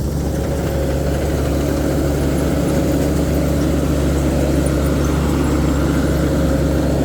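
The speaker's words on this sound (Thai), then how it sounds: "รถเกี่ยวข้าวเซตสามพันครับแคมโก้เกษตรพัฒนา" A Tamco Z3000 rice combine harvester with an Isuzu engine runs steadily nearby, a loud continuous engine drone with a low rumble and a faint whine throughout, no speech.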